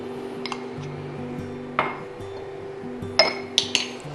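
Pork belly stew with dried mustard greens, garlic and dried shrimp is swirled in a pot, giving a few metallic clinks and taps over a low simmering bubble and hum.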